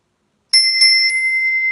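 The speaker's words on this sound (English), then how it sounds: "I actually was space clearing earlier today and was using my bell." A metal hand bell struck during a space-clearing ritual rings out alone after silence, a couple of quick bright strikes followed by a long, loud, shimmering sustained tone.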